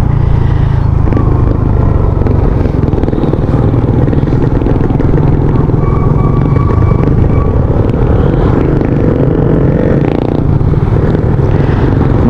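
A Suzuki Raider 150 FI motorcycle is being ridden with its engine droning loudly and continuously, buried in heavy wind rumble and road noise.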